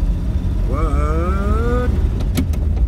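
A car engine revs up before driving off, a loud close rising whine climbing in pitch and then cutting off, over a steady low rumble, followed by a couple of sharp clunks.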